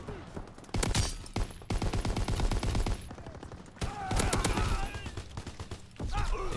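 A Lewis LMG light machine gun fires in a shooter game in long rapid bursts, dense and rattling, broken by brief pauses, with game noise and a voice talking over parts of it.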